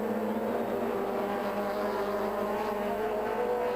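Touring race cars, including BMWs in the 1996 South African Super Touring Championship at Kyalami, brake hard into West Bank corner, their engines droning steadily at a distance under continuous race commentary.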